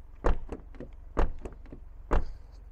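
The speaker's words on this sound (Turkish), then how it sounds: "kapı seslerimiz bu şekilde. Kapımızı açtık." Three solid rear door thunks of an Opel Astra K in quick succession, each a close, dull slam with a short rattle after it.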